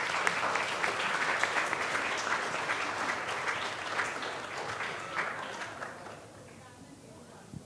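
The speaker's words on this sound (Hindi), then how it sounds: "तालियां बजा दीजिए।" An audience at a Punjab Kesari Group award ceremony applauds with a sustained wash of clapping that gradually thins and fades out, with voices mixed in.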